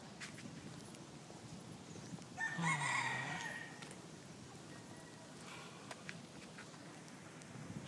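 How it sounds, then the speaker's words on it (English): A rooster at a small local zoo in Nakhon Pathom, Thailand, crows once at moderate distance, a single rising-and-falling call standing out over quiet outdoor background. "Let's check the rooster out."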